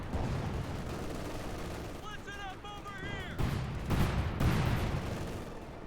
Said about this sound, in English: And there you go, more cluster bombs